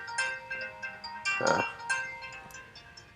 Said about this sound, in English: could probably hear that. It's my phone.